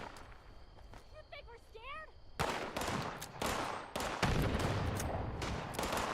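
Gunfire in Fallout 76 breaks out after a few seconds of quieter sound with chirping tones, then runs as rapid, dense volleys of shots with a constant background rumble.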